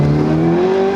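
Turbocharged Scion FR-S driven hard into a corner, a loud close engine note holding high revs with a slight rising pitch, sustained and alone for about a second.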